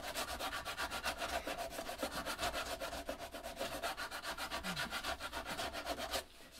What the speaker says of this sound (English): sanding with this block